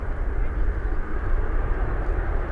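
An Airbus A350-1000 airliner performing a flying display at the Farnborough International Airshow 2018, its jet engines producing a steady, broad roar at moderate distance, with a commentator talking over it.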